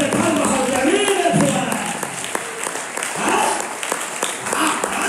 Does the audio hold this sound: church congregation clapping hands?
yes